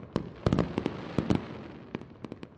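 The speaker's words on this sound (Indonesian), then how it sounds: "Yan Yu, kamu tahu kembang api ungu paling romantis" Fireworks pop and crackle in a rapid, uneven series of sharp bursts, some clustered together, fairly distant with no voices.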